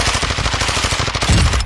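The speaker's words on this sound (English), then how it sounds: "Try the hip fire on there, man." Rapid automatic SMG fire from the hip in the video game Warzone 2.0, loud and close, a fast continuous rattle of shots ending with a heavier burst near the end.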